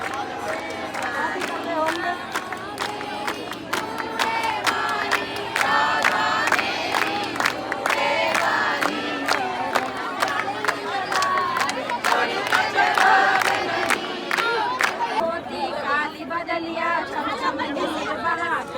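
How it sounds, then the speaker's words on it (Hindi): A large crowd of devotees in Barsana chants a kirtan of Radha's name together in a steady, dense wash of voices, with rhythmic claps or percussion hits cutting through continuously. "भक्तों का नाम संकीर्तन सुनिए और भक्तों का राधा नाम सुनिए"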